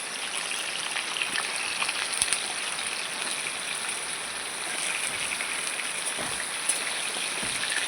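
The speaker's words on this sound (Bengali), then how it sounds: "এই তেলের মধ্যে আমি আলুগুলো ভাজবো" Large-cut potatoes fry in hot oil for chicken biryani, giving a steady, even sizzling hiss with scattered crackles and no voices over it.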